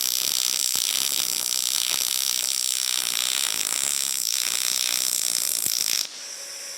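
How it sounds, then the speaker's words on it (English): Welding on a rusty vehicle chassis outrigger gives a steady, close crackling hiss that runs for about six seconds before dropping to a quieter hum. "Okay, so now we can completely weld it."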